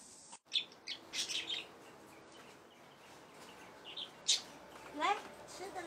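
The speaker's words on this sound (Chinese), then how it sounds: "先去喂一下鹦鹉" Pet parrots chirp at feeding time in short, scattered bright bursts, some close and some softer, over an otherwise quiet background with faint voice sounds.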